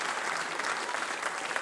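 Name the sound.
audience applause at a concert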